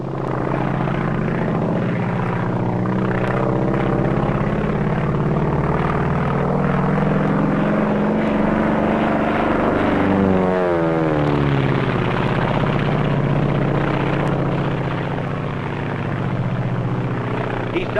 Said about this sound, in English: Now let's just watch this takeoff.